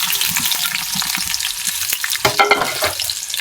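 Chopped garlic and dried red chillies frying in hot oil in a pan, a loud, steady crackling sizzle throughout with a few stirring scrapes.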